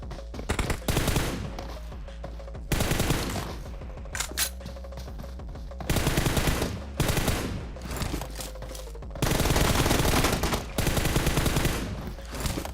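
Gunfire in the mobile battle game PUBG Mobile comes in repeated loud bursts of rapid automatic shots, separated by short quieter gaps across the stretch.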